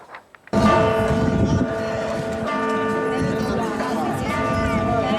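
Palermo cathedral's bells toll a death knell after the Pope's funeral, a dense, sustained ringing that starts abruptly and continues loudly throughout, resonant and layered.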